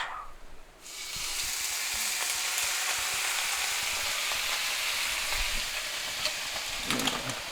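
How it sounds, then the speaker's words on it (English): Vinegar poured into a hot pan while cooking Monterey Jack burgers bursts into a loud, sustained sizzle and hiss after a brief quieter moment, with faint scraping of stirring near the end. "Stir in vinegar and 1 teaspoon of sugar."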